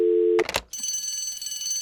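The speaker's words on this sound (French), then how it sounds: "Dès qu'il y a un échange, vous entendrez la fameuse sonnerie." A trade alert ringtone on an NFL mock draft stream: a steady electronic tone cuts off into a short burst of chiming notes, then a bright sustained high ringing tone holds to the end, loud and alone with no talk.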